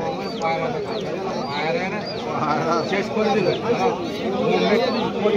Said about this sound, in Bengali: এটা কি পায়রা আছে গো? বেনারসি পায়রা।